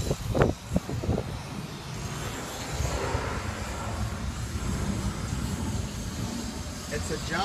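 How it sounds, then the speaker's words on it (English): A John Deere 6359D diesel engine runs on a machine, giving a steady broad rumble throughout while someone talks over it. "It's a John Deere diesel"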